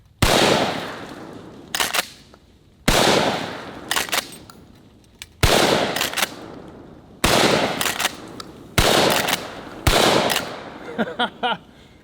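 A trench shotgun fires birdshot at helium balloons outdoors, giving six loud, sharp blasts spaced about two seconds apart, each followed by a short echoing tail and some brief clatter.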